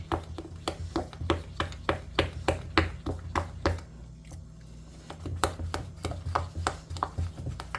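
A homemade liquid soap made from bar soap and sugar is stirred in a container, giving steady rapid wet taps and squishy clicks close by, with a brief quieter pause midway.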